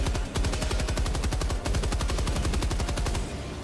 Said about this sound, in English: drop a sentry turret. Oh nice, you have a sentry turret there.